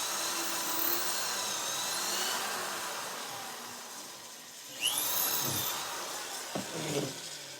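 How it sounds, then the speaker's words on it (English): A small drill bores a pilot hole into deer antler with a steady high whine, fading slightly midway, then surging with brief grinding bursts near the end. "antler is fairly easy to drill"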